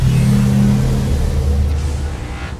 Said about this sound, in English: Engine powering up.